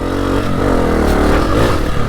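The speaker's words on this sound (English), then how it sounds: "You can hop it, give it a little throttle blip" A 2024 Honda CRF250F trail motorcycle engine running loud and close, with a steady throaty rumble and a slight throttle rise near the end.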